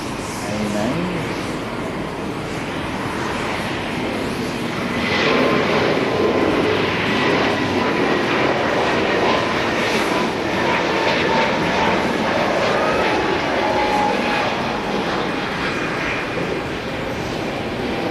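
Air India airliner taking off at Haneda airport, a loud sustained jet engine roar that swells and holds as the aircraft accelerates, heard at a distance with faint talk beneath.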